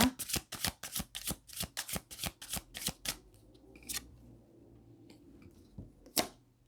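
Tarot cards riffled and shuffled by hand during a Leo love reading, a quick run of about a dozen crisp, close flutters over three seconds, then quieter scattered card handling with one last sharp snap near the end.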